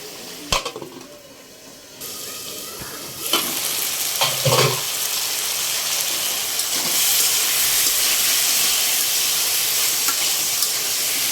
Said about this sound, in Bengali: পানি দিয়ে ঢেকে দিব।